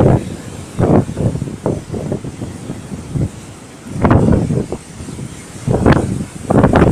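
Gusty seaside wind along the Sudak promenade comes in uneven bursts that swell and fade, loud at the peaks, over a softer steady rush, with no talking.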